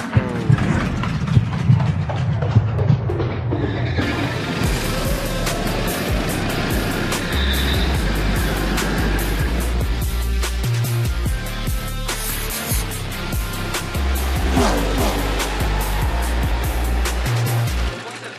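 Go-karts racing around a track, small engines droning and buzzing as they pass, varying in pitch with throttle, with occasional bumps and knocks over a continuous mechanical hum.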